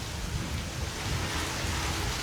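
Steady rain falls in Pointe-à-Pitre the day after storm Fiona, a dense, continuous hiss and patter with a low rumble underneath, unbroken and without voices.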